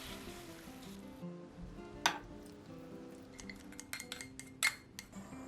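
Tofu, onion and sauce frying in a pan over medium heat, a soft continuous sizzle broken by several sharp clinks and scrapes of a utensil against the pan.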